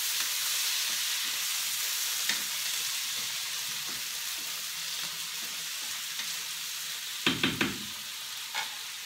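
Eggplant and tomatoes stew in a pan with pasta, a soft steady sizzle and bubble close by, with a few clinks and scrapes of stirring near the end.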